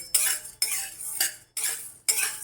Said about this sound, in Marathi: चांगली खरपूस अशी भाजून घ्यायची हलवत राहायचं सारखं